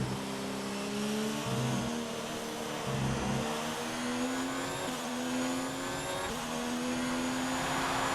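A Toro Rosso Formula 1 car in a racing video game, racing at Germany, screams close with a high, buzzing engine note that rises through gears with brief drops at each shift, continuous and loud with no talk.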